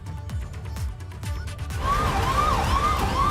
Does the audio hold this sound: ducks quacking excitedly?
no